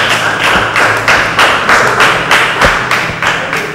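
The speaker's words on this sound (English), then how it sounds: "Please clap for them." Audience clapping for the final ten contestants at a NATCOM-organized program, a close, loud mix of individual claps and thuds with no voices.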